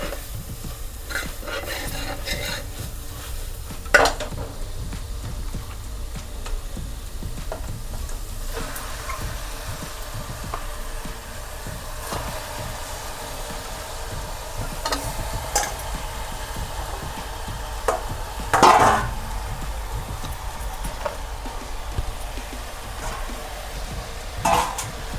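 Mutton sizzles softly in a pan for a Marathi-style spicy black mutton curry while a spoon stirs and scrapes at intervals, with a few louder clinks against the pan.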